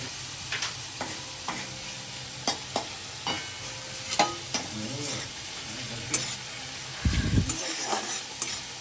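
Fish curry with bhola fish, tomato, onion and coriander leaves cooking in a pan, with a steady frying sizzle, intermittent spatula scrapes and stirring knocks, and a brief louder rumble near the end, no voices.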